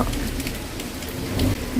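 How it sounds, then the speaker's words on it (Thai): Rain falls outside an apartment in Perugia, Italy, as a steady broadband patter and hiss with a few louder drips near the end, no speech. "ดูสิฝนกระปิดกระปอย"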